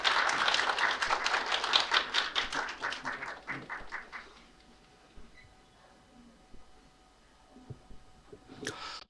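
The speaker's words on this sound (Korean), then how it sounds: "박수 부탁드립니다." A lecture audience gives a short round of applause at a university public lecture on architecture, then the clapping fades into a quiet room with faint rustling.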